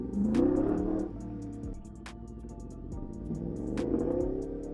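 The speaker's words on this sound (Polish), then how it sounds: "O, ale chyba mi silnik zaczął przerywać." A car engine misfiring during night racing runs roughly and unevenly, its rumble dipping and surging as if stuttering and cutting out, with no voices.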